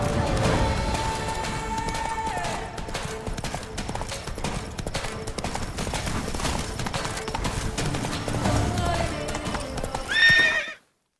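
A horse galloping in The Witcher 3 video game, loud rapid hoofbeats in a steady rhythm over game ambience, ending with a brief whinny before cutting to silence.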